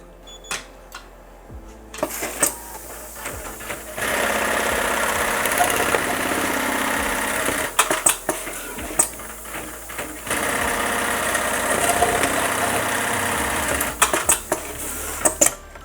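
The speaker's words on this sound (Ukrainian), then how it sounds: "Зараз вже зігзагом буде шити машину." Industrial Mitsubishi PLK-J2516R-YU programmable cycle sewing machine stitching a zigzag pattern, with bursts of rapid mechanical whirring separated by clicks and short pauses, close and loud.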